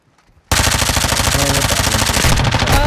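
The LMG Impala light machine gun in a video game opens fire after a near-silent moment, a loud, steady stream of rapid automatic shots held without pause to the end.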